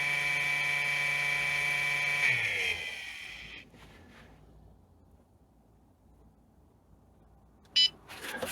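A 3D printer powering on gives a steady high electronic tone with a low hum for a couple of seconds, then cuts out. Quiet rustling follows, and a single sharp beep sounds close by near the end. There is no talking.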